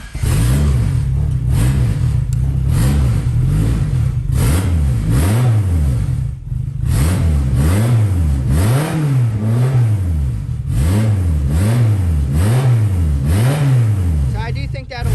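A turbocharged Honda Civic engine on a cold start revs repeatedly in a steady rhythm of rising and falling surges, loud and close, with a rough idle and a brief dip in between.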